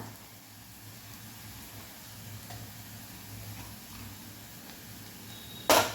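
Onion and garlic fry in a pan for Marathi bharit, giving a faint, steady sizzle close by, ending in a sudden loud clatter.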